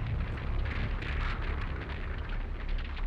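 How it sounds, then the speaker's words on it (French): A dense, rumbling blast roars in a One Piece anime scene, a sustained low boom with crackling debris rolling on for several seconds without voices. "Je le savais qu'elle était pas normale cette explosion."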